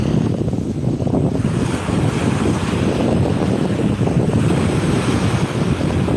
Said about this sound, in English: Just listen to those waves.